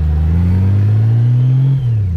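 A motorcycle engine revs loudly and close by, its pitch climbing steadily for almost two seconds before dropping off sharply, heard alone with no talking.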